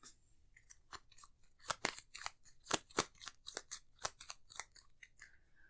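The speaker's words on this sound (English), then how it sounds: "We need to shuffle our decks." Decks of Arkham Horror cards are shuffled close by, giving an irregular run of crisp snapping riffles and soft slaps with no talking.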